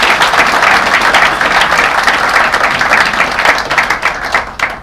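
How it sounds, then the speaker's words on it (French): An audience at an official speech during a visit to the Faré Ute industrial zone breaks into sustained, dense applause, many hands clapping loudly and evenly for several seconds before it starts to thin out. "Je vous demande de bien vouloir les applaudir."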